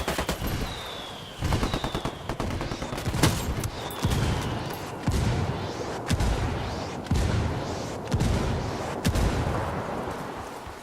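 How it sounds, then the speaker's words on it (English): Called-in indirect fire from a Ghost Recon Wildlands mission, with bursts of loud gunfire and heavy booming impacts in repeated waves, rumbling on between blasts and broken by brief whistling streaks. "I'm calling for indirect fire."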